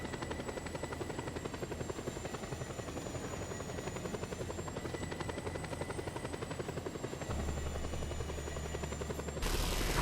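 In Just Cause 2, a video game helicopter whirs with a continuous, rapid rotor chop that stays loud and steady, with a brief shift in tone near the end and no talking.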